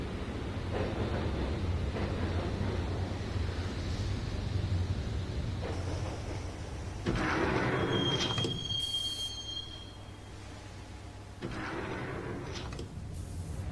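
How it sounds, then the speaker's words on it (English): A subway train ride in the Max Payne video game, with a low steady rumble of carriages on rails, a thin high wheel squeal partway through, and brief sliding surges as the train moves. "the train doors had already shut behind me, and I was in for the ride"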